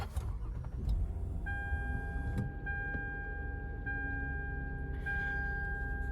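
A car with about 117,000 miles starts up: a steady mechanical rumble, close and fairly loud, with a few thin tones running over it and no talk.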